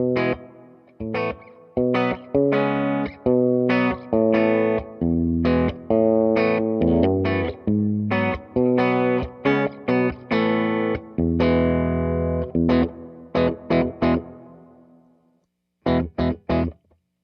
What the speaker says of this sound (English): this is a more subtle kind of a reverb sound for the dark mode